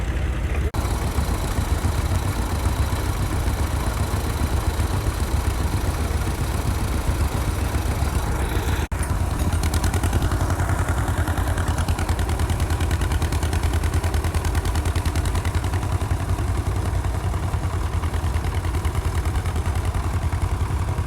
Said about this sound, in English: (1951) John Deere M tractor.